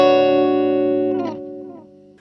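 Guitar through a Zoom MS-50G+ multi-effects pedal on Gold Drive overdrive with delay, a single sustained distorted chord ringing out and slowly fading, with a faint repeat trailing behind.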